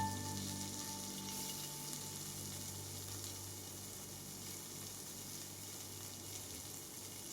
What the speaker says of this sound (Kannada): ಈರುಳ್ಳಿ ಎಲ್ಲ ಸೇರಿಸ್ಕೊಂಡು ಸ್ವಲ್ಪ ಫ್ರೈ ಮಾಡ್ಕೋಬೇಕು